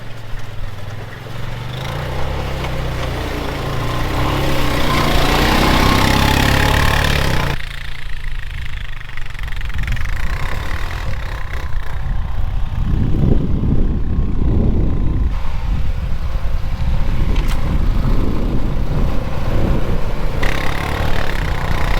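A Honda Rubicon ATV fitted with Camso tracks drives with a steady engine drone throughout, rising and falling in revs as it moves.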